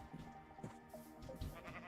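A video-game sheep bleats in a few short wavering calls close by, quietly, over soft background game sound.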